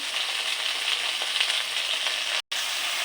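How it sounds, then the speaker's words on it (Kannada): Steady, loud sizzling of bitter gourd frying in hot oil, a dense crackling hiss that continues throughout with one brief cut. "ಹಾಗಲಕಾಯಿನ ಸ್ವಲ್ಪ ಚೆನ್ನಾಗಿ ಫ್ರೈ ಮಾಡ್ಕೋಬೇಕು ಎಣ್ಣೆಲಿ"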